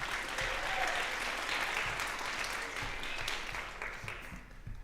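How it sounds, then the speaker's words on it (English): Sustained audience applause after a high school jazz concert set, dense steady clapping from a crowd of parents that holds for several seconds and eases slightly at the end. "Yeah, round of applause for that."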